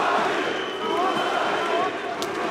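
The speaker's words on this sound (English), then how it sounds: "London crowd chanting Mousasi" A large London arena crowd roars and chants for Gegard Mousasi at a Bellator 200 fight, a steady, distant wash of many voices with no break.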